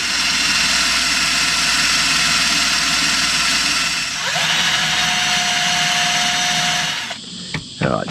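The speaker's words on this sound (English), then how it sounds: "So we'll drill the broken old one out and put a new one" A loud, continuous power drill whirs steadily for about seven seconds drilling out a broken roll pin on a Vetus heat exchanger, then cuts out, followed by a few sharp metallic clicks.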